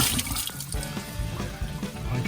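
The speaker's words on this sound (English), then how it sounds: "I'm filling up the tank with water and we're gonna test the valve here." Water flows steadily from a tank valve being tested during a shuttle bus conversion, a continuous close gushing splash with a few brief knocks, and no talking over it.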